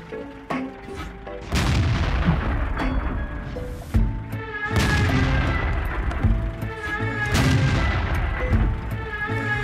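Leopard Prototype A tank cannon fire on the Siegfried Line map in World of Tanks, several loud booming shots spaced a few seconds apart over rumbling battle noise and engine drone, with no talking.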